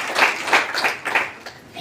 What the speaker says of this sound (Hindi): अच्छे के लिए जबरदस्त तालीम होना चाहिए